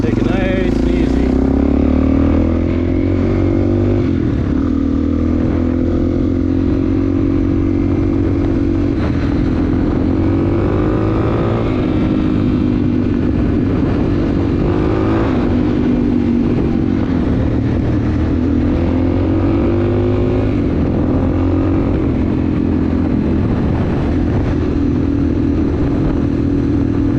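A Suzuki DR-Z400 dual-sport motorcycle is ridden on a city street. Its single-cylinder engine drones loudly and close throughout, rising and falling in pitch with throttle and gear changes over constant wind rush.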